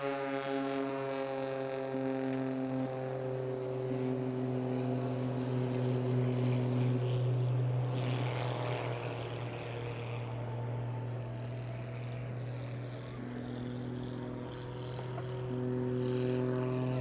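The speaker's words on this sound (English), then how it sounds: "Richard Goodwin in the muscle biplane." Richard Goodwin's muscle biplane flies a display along the seafront at the Eastbourne International Airshow, its engine a steady, loud harmonic drone that stays constant throughout with little change in pitch.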